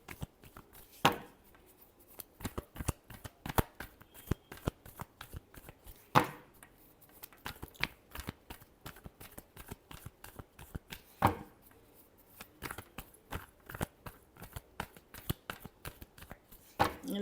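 Tarot cards are shuffled by hand in a steady run of quick, close riffling slaps, with a few louder snaps at regular intervals and no voices.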